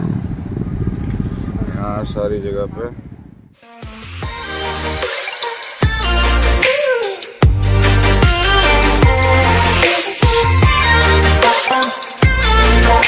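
Engines of motorcycles, including a Bajaj Dominar 400 and a Kawasaki ZX-10R, rev and roar loudly nearby in repeated bursts, with someone talking over the noise at the start.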